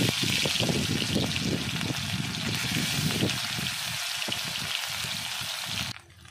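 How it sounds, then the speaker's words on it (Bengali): Banana flower koftas deep-frying in hot oil, a steady loud crackling sizzle for most of the time, fading sharply near the end. "এবার আমি কোপ্তাগুলো ভেজে নেব।"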